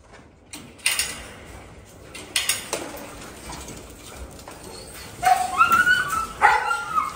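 Puppies eager to get out before feeding bark and yip in short, uneven bursts, some high whimpering cries mixed in, close by with mechanical rattling between outbursts.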